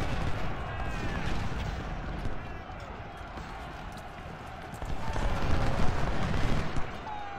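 Musket volleys from the Civil War strategy game Ultimate General: Civil War, a steady crackle of rifle fire layered with distant rumbling battle noise, swelling louder toward the end.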